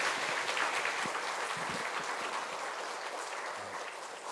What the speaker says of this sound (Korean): 들어가실 때 큰 박수 한 번 더 부탁드립니다.